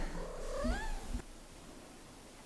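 A cat lets out a single close, rising-and-falling meow, followed by quiet room noise and a faint click at the end.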